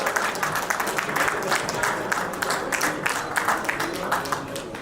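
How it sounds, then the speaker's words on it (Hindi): An audience at a travel company's ninth anniversary celebration and annual general meeting claps steadily, a dense, even round of applause lasting throughout at moderate loudness. "तालियां बजाओ।"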